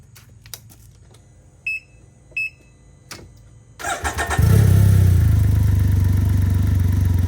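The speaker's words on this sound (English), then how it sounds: "let's go ahead and start the bike, let it run." A 2022 Can-Am Ryker 900 motorcycle sits quiet apart from a few clicks and electronic beeps, then cranks, starts and settles into a loud, steady idle nearby.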